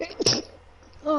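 A single sharp sneeze bursts out near the start during Borderlands 3 gameplay on PS4, loud and close, with someone speaking around it.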